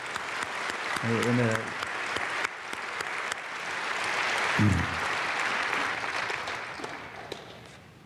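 A church congregation at an early-morning prayer service applauds after a blessing, a broad steady wash of clapping with a voice briefly speaking over it twice.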